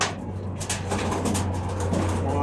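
A pet pigeon coos nearby in a low, soft, steady drone that runs for a couple of seconds with faint background noise.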